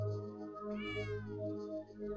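A cat meows in the roach video game Bad Mojo, one drawn-out, rising and falling meow near and clear over a low steady background hum.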